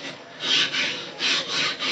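A sharpening stone is flattened on a DMT extra coarse diamond plate, making close, rhythmic back-and-forth rasping strokes, roughly four in quick succession, with brief lifts between them.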